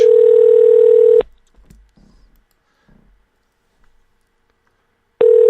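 A telephone ringback tone plays on an outgoing call, a steady loud tone lasting about a second at the start and returning at the end, with near silence and faint clicks between.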